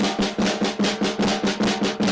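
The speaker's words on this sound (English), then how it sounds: "If you just practice flam taps" Drum flam taps with three notes per hand: a fast, even run of sharp, loud snare strokes with paired grace-note attacks, close and alone.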